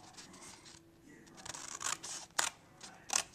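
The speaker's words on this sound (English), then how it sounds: "I'm going to cut on the middle section right on the score line" Scissors snip through Stampin' Up designer series paper along a score line, a few crisp separate cuts with rustling paper between them, close and clear.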